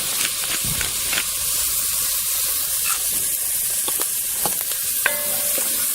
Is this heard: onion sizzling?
yes